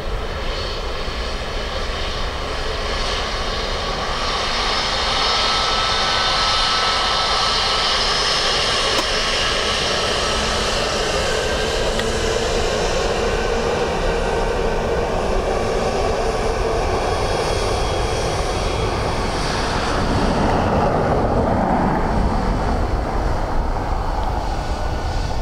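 A Ryanair jet landing on runway 28 left at Dublin Airport, a steady broadband roar of jet engines that holds loud throughout and swells slightly near the end, with no voices.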